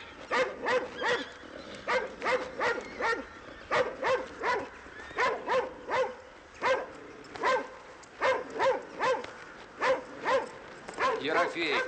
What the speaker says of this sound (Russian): Ну сколько можно говорить, не выпускать собак?